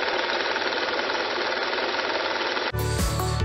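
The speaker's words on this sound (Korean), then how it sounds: "엔진 사운드의 경우" An engine runs with a rapid, steady knocking clatter, then the sound changes abruptly to a brighter, harsher tone near the end.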